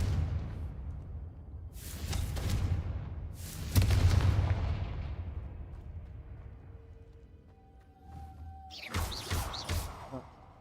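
A Confringo blasting curse bursts in Hogwarts Legacy, with heavy booming blasts and rumbling decay, followed by a quieter tone and a final sharp crackling burst near the end.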